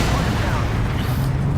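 A game sound effect of gunfire, a dense continuous rumble of shots and booms at steady loudness, without speech.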